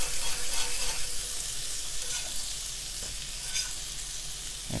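King trumpet mushrooms pan-fry in butter and wine, giving a steady, loud, dense sizzle that carries on without a break from start to end.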